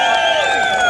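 A crowd cheers and applauds the Talas district youth team at a cup celebration, a brief, loud and continuous burst of massed voices and clapping.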